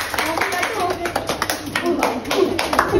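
Classroom students clap their hands together in quick, dense bursts for about three seconds, close and fairly loud, with voices mixed in.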